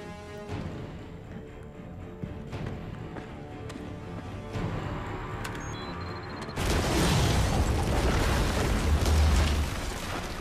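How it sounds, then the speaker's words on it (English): A deep explosion in the video game Batman: Arkham Origins bursts in partway through, a heavy rumbling boom that lingers loudly after quieter game sounds with scattered clicks and tones. "Cool guys don't look for explosions."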